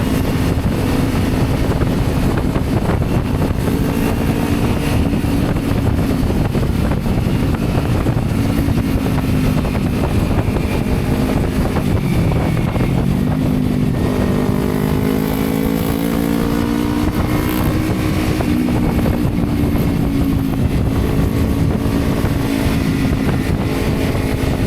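Motorcycle ride toward Ciletuh on Indonesia's south coast, engine droning loud and constant with rising and falling revs and wind buffeting the microphone, no voices.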